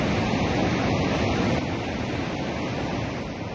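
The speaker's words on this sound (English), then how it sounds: "quite an impressive amount of water that flows down the Orange River as it passes through the Augrabies Falls" Augrabies Falls on the Orange River in South Africa, a huge volume of water pouring down, heard as a dense, constant roar with no voices.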